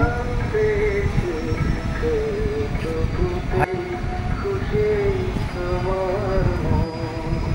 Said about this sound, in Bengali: এই যে ড্রাগন ট্রেন বসানো আছে